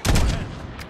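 A quick burst of rapid gunfire in a first-person shooter game, loud and close with booming low-end thumps that fade quickly.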